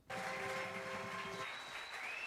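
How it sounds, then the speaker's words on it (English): A small novelty applause machine plays back a thin recorded clapping sound with some steady tonal hum, starting abruptly and running on at a fairly low level. "It's applause machine as well."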